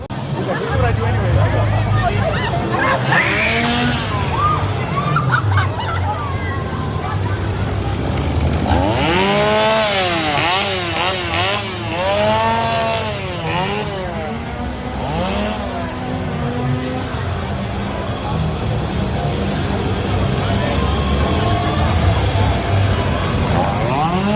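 Chainsaws rev and whine in rising and falling sweeps as scare actors work an outdoor horror zone at Halloween Horror Nights 2024, loud and close over a crowd's constant babble and scattered screams and talk.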